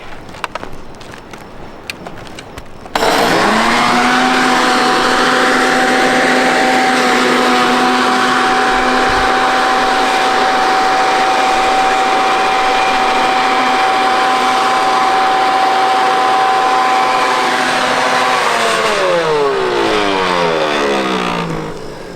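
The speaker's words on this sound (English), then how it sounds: "I wanna show the leaf blower. This works really well on dry stuff" A loud, steady whine of a leaf blower motor starts abruptly, roaring constantly for many seconds while clearing dry debris from a rain gutter, before winding down at the end.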